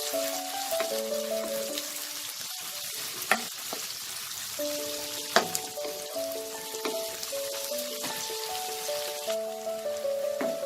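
Finely chopped small onions fry in oil, giving a steady, moderate sizzle with occasional stirring knocks while soft music plays underneath.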